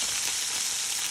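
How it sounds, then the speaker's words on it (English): Chicken sizzles in hot oil in a pan, a dense steady crackling hiss, close and continuous for about a second with no voices. "the sizzling is maybe taking over part of this video"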